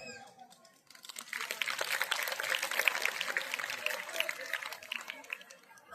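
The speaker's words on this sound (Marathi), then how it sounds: "ही जी टाळी आहे" An audience at a school gathering applauds in a dense, sustained wash of clapping that swells after a brief lull and carries on steadily, moderately loud and a little distant.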